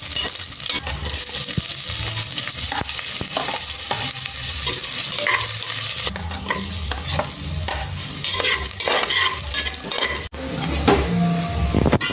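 Dried fish frying in a cooking pot on a double burner outdoors, a loud continuous sizzle with stirring and scraping of a utensil against the pot throughout.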